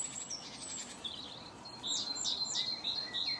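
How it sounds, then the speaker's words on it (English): Blue tits sing in woodland beside a cemetery on a morning walk, thin high chirps and short trilled phrases rising over a soft outdoor hiss, fairly close and growing busier toward the end. "birds out this morning. Blue tits, I say."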